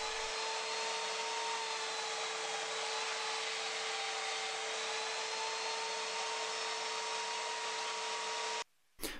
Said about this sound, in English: I use my horizontal belt sander station to smooth that out.